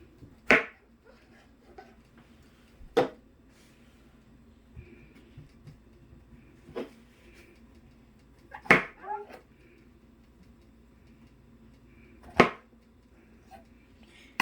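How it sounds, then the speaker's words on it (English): A knife chops portobello mushrooms on a board, six or so sharp isolated cuts spaced a few seconds apart, close and clear against a quiet room hum. "Now I have 6 portobello mushrooms already chopped up, and I'm going to cut up 2 more"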